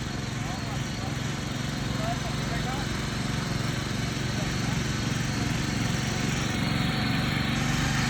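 An Indian farm machine works the ground under a heavy load of ten quintals plus five riders, its engine churning in a loud, dense, continuous rumble with a steady rhythmic throb.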